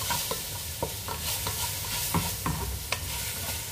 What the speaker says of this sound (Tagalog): Lagyan na natin ng garlic para ma-fry din.